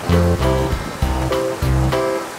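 Rushing cartoon waterfall in an animated kids' show, a steady loud roar of water with a pulsing rhythm and low tonal layers over it.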